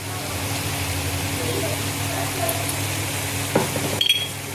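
Momo filling frying in a pan with salt and soy sauce, making a continuous sizzle with a few clattering stirs and knocks near the end.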